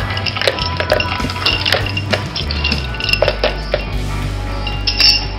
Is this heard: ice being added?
yes